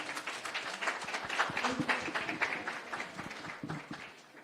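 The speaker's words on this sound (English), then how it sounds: "Let's give His Excellency another round of applause." Applause for Kenya's Deputy President at a Kenya Kwanza meeting with civil society groups, a dense, steady clapping from a crowd that holds for several seconds without talk.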